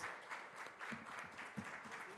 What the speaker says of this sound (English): big round of applause for the organizing team